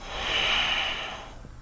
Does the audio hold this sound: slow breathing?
yes